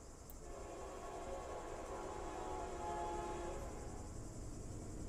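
A freight train rolls past in the Run8 train simulator game, a steady rumble of wagons holding throughout with a tonal horn sounding through the middle, moderately loud and with no talk over it.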